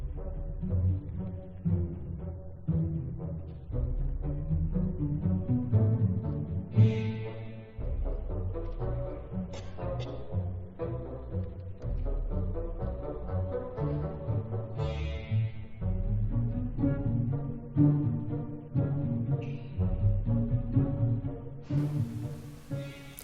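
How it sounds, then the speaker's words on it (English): An orchestra plays In the Hall of the Mountain King, with low plucked strings and bassoons stepping through the theme, punctuated by cymbal crashes, moderately quiet and steady without voices. "One of which I find fascinating is the song called In the Hall of the Mountain King."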